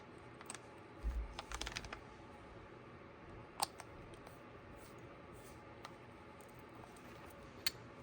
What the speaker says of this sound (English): we'll just put the screws back in